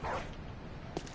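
A dog in Bloodborne gives a short bark or yip near the start, followed by a quiet stretch of game ambience and one brief sharp sound near the end.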